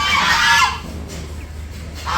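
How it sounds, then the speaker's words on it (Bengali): Domestic geese at a village home honk in a loud, harsh burst up close, then fall quiet before a brief faint call at the end. "রাজহাঁস"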